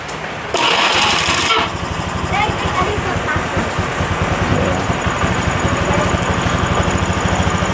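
Honda Beat FI scooter engine idling after a start, its piston scored and blowing white smoke; a steady close rattling putter runs throughout after a brief louder burst at the start.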